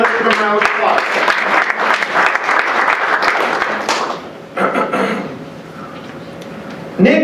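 A room of people at a Veterans Day ceremony claps in a dense burst of applause that fades out after a few seconds, followed by quieter talking.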